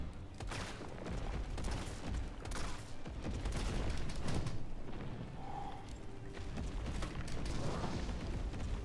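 Repeated gunfire from the Resident Evil 3 Remake video game during a boss fight, a steady dense barrage of shots and booms layered with game music and effects, loud throughout.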